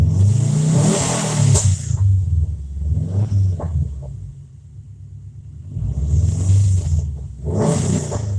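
A car engine undergoing a damper test revs hard in repeated bursts, roaring up and dropping back, with a quieter idling lull between the loud pulls, close and dominant.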